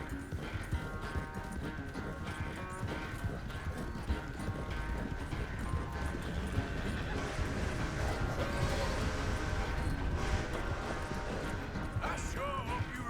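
Horse hooves clip-clop at a steady gallop in Red Dead Redemption 2, a continuous drumming rhythm set under game music and ambient sounds, with a voice briefly present.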